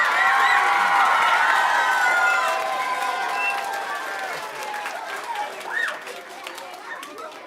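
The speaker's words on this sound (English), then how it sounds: "So let's give Mr. Mertens a giant round of applause." Audience applause and cheering from a crowd of parents at an elementary school choir concert with about 120 children, loud at first and gradually thinning out with scattered claps and calls.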